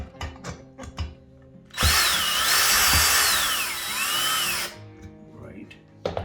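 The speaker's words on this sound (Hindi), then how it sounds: "तो फिर आप ड्रिल यूज कर सकते हैं।" A power drill drives a screw into an IKEA SLATTUM bed frame in one loud, steady whirring burst lasting a few seconds, with knocks and handling sounds before and after it.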